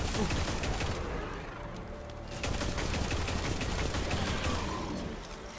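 Dense, rapid bursts of gunfire crackle through most of the stretch, with a short lull in the middle, from an intense firefight in Destiny 2.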